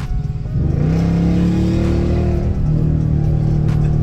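Dodge Challenger R/T fitted with headers and an aftermarket exhaust revs up loudly and close, its deep rumble climbing and holding steady for several seconds with no talk.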